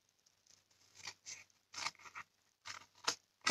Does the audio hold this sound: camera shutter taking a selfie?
no